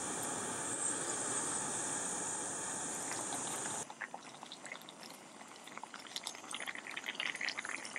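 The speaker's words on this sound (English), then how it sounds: "Cover up again and let it cook just a little bit longer. Let the rice absorb the water." Rice simmers in water in a covered pot, a steady bubbling hiss for nearly four seconds that then cuts to faint, sparse popping and ticking at low level.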